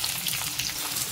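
Sliced onions frying in hot oil with whole spices and bay leaf, a brief, close, continuous crackling sizzle.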